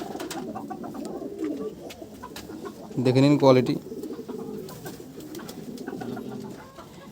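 A male Madrasi tournament pigeon gives a brief, clear cooing call midway, heard close by, while someone talks over a steady background throughout.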